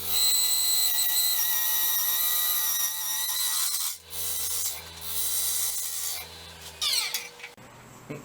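Mahogany bowl spinning on a wood lathe slowed right down, with a close, steady scraping rasp of the turning tool against the wood and a low motor hum. The scraping breaks off briefly twice, then comes back rougher near the end.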